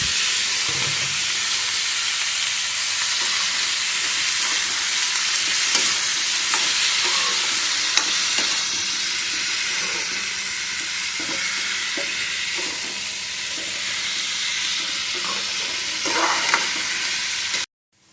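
Vegetables fry in a pan with a steady, close sizzle that holds for the whole stretch, broken now and then by faint stirring clinks before it cuts off abruptly at the end.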